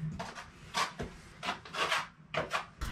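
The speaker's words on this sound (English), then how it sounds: "you again want to use a damp sponge to make sure you have any foreign objects removed" A damp sponge wipes over a tile floor in close, soft rubbing strokes, several short swipes in an uneven rhythm at low volume.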